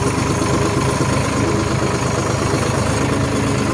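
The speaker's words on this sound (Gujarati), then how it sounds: "સારામાં સારો રિસ્પોન્સ આપે છે એન્જિન. એ પ્રકારનું પાવરફુલ એન્જિન છે." A Deutz-Fahr Agromaxx 50 Turbo Pro tractor's turbo engine idles steadily up close, a loud, even diesel rumble with faint vibration and no talk.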